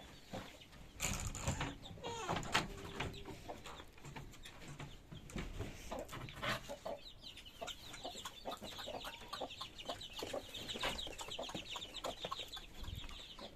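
Young chicks peck and cluck while eating egg mixed with powdered chick feed, a steady busy mass of soft cheeping and clucking with faint pecking and rustling close by throughout.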